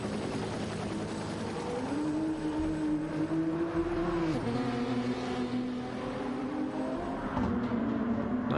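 Race cars in a racing video game at the La Sarthe circuit hold a steady, droning engine tone that shifts pitch as they move along, with several engines layered together and no voices.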